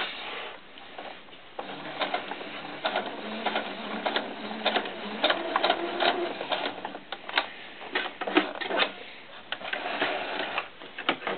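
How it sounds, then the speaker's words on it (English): Sewing machine stitching fabric right off the edge while making fabric roses, a close, busy mechanical chatter of rapid needle ticks and motor hum that runs in uneven bursts throughout. "I'm going to sew right off the edge"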